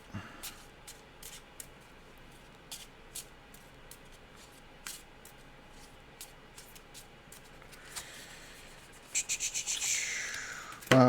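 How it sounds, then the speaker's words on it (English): Tier 2 loot cards are shuffled during a solo dungeon-crawl card game, giving a run of soft, brief riffling and rubbing bursts spread across the stretch, growing busier and louder toward the end, with no talking. "let's shuffle this tier 2 and see what we get"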